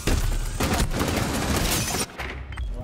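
Bomb explosions in a video game going off after a delay, a dense loud rumbling blast lasting about two seconds, then cutting off sharply into a quieter tail.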